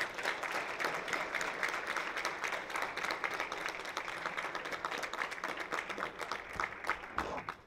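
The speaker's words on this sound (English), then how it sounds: "Let us give President Ellis another hand clap on that one" Ongoing applause for President Ellis at an NAACP Brockton Branch 65th anniversary celebration, many hands clapping with crisp separate claps audible, steady and moderately loud before tapering off.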